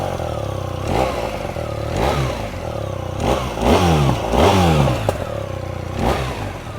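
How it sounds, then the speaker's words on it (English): A BMW R1300 R naked motorcycle's boxer engine and exhaust blip repeatedly from idle, each throttle rise sweeping up and falling back, close and loud with a rough mechanical clatter underneath. "I'll let you hear how this engine sounds"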